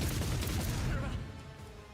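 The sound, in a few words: gunfire in video game Rogue Trader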